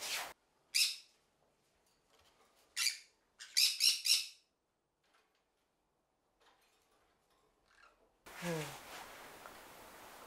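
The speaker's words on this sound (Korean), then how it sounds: "얘네는 앵무새예요" Pet parrots kept indoors give several loud squawks and chirps in short bursts separated by quiet gaps, followed by a stretch of background noise.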